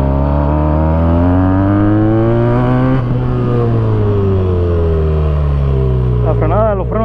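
A Benelli 302S motorcycle engine revs and shifts on a test ride, its pitch climbing and dropping with gear changes while someone talks over the loud, close engine noise.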